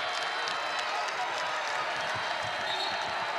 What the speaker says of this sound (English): McLeod Center crowd coming alive here, trying to get this team to wake up.